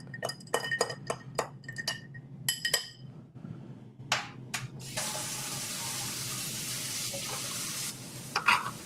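Ice clinks sharply against a glass in a quick irregular series while an old-fashioned cocktail is stirred, followed by a steady rush of running water and a few final clinks, close and fairly loud.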